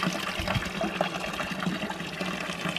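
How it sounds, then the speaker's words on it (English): Water running and splashing in a village fountain, a continuous close gurgling stream with small bubbly spatters, steady and moderately loud, no talk over it. "Don't you love these fountains, Callum?"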